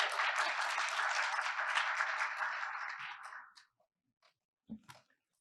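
Dense, close audience applause at an awards ceremony greets the jury chair coming to the stage, a steady crowd clap that fades out after about three and a half seconds into near silence with a few faint stray sounds.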